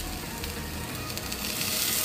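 Shrimp dry-roasting in an empty kadai with no oil, giving a steady broadband sizzle that holds even and close throughout, swelling slightly toward the end, with no voices.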